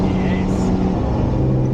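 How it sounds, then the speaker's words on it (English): A Fenyr Supersport hypercar's turbos spool up on a mountain road, giving a loud, steady engine roar close to the microphone with a rising whine above it through the whole stretch. "Listen to those turbos come in. They come in a lot faster than the Lykan."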